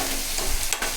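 Onions with turmeric frying in a pan, a constant close sizzle with light stirring scrapes over a very short stretch.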